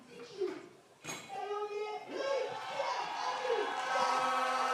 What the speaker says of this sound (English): look at the crowd react to Vincent being in the lead